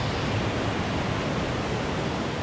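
Rushing river water near Tintern village, a loud, unbroken broadband roar filling the whole stretch with no other sound.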